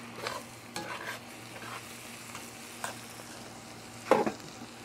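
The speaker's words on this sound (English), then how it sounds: "Get it all mixed in real well with that jalapeno that was down underneath." Southern fried cabbage with jalapeno and seasonings gets stirred in a pan: scattered soft scrapes and spoon clatters over a faint sizzle and low steady hum, with one louder clunk near the end.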